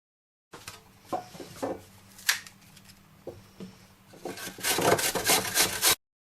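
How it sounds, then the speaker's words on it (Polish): A peeled apple quarter rubbed across a coarse grater, a series of raspy scraping strokes, sparse at first and then a dense, louder run of rapid rasps near the end. "Jabłko obieram, kroję w ćwiartki i trę na tarce o grubych oczkach."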